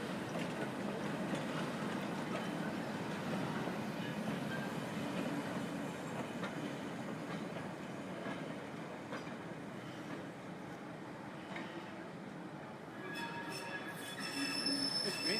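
A Black 5 steam locomotive, 45379, departs, rumbling steadily along the rails with faint wheel squeal and clatter, a continuous mechanical roar that swells slightly toward the end.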